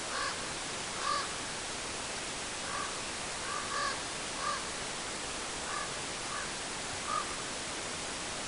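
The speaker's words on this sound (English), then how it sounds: "You can hear the crows crowing at each other." Crows caw back and forth at a distance before sunrise on an autumn elk-hunting hillside in Colorado, scattered calls over a steady hiss of background noise.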